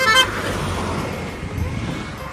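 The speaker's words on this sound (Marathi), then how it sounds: "गाड्या बघा कसल्या स्पीडने येतात" Cars rush past at speed on a roadside near a beach, a close, continuous whoosh of traffic noise with a brief horn toot at the start.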